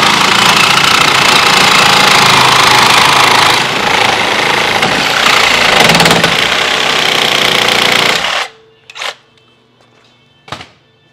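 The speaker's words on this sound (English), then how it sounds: "Just gonna use the Sawzall." A Sawzall reciprocating saw cuts into a part on a 1950 Fargo truck, a loud harsh buzzing rasp running for about eight seconds before stopping abruptly, followed by a few faint clanks in the quiet.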